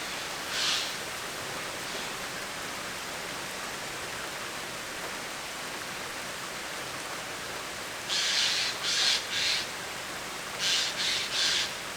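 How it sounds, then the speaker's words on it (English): Magpies and jays calling from outside a window, with a single harsh call early on and then two short bursts of rapid, rasping chatter later, heard over a steady hiss of background noise. "It's full of magpies, jay"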